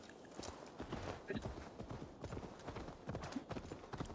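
Steady hoofbeats of a horse clip-clop continuously in the video game Assassin's Creed Valhalla, a quick rhythmic walking gait that sounds fairly faint and even, with occasional soft background voices.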